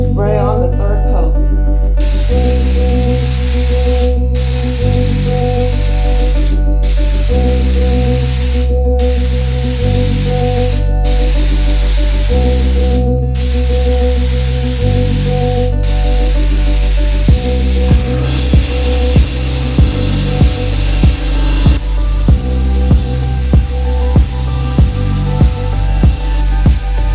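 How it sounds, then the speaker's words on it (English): Aerosol spray paint being applied to a car valve cover, long continuous hissing bursts separated by brief pauses, close and loud, later shortening into quicker repeated sprays. "it is now time to spray on the third coat."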